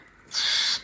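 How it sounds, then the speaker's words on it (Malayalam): A single short, breathy high-pitched call from a koel chick, close and clear, against quiet background. "എൻ്റെ ശബ്ദം കേൾക്കുമ്പോൾ തുടങ്ങും വിളി കിളിക്കുട്ടി"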